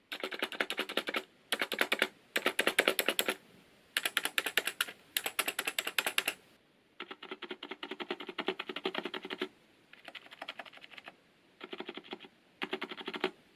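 Fast typing on a GK893B mechanical keyboard with hybrid stabilizers, close and clear, in rapid bursts of crisp clacking keystrokes separated by short pauses, with no talk.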